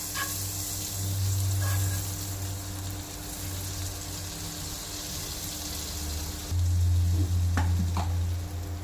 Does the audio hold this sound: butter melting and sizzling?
yes